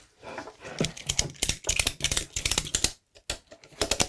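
A ratchet strap, the kind used for tying down cargo, clicks as it is cranked tight around the legs of a kit chair, giving a close, loud series of rapid ratcheting bursts with short pauses between strokes.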